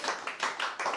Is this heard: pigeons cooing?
no